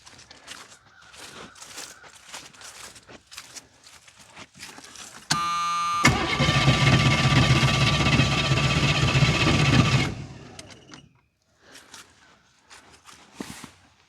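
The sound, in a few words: Autogen 4500 amp portable jumpstarter engine running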